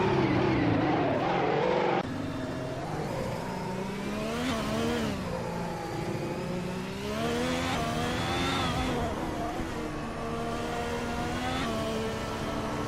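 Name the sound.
F1 2016 race cars racing on a circuit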